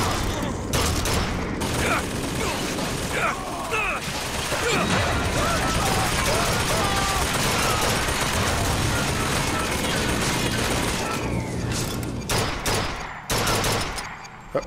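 Rapid bursts of gunfire from Bioshock Infinite game combat, dense and sustained across the whole stretch with booms and crashes mixed in, loud and continuous with a voice talking over it.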